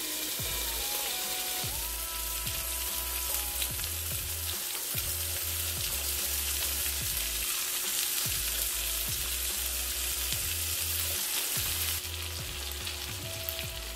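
Burger steaks sizzling in a pan as cheese melts over them, a steady loud frying hiss with intermittent low rhythmic bumps and scraping, no voices.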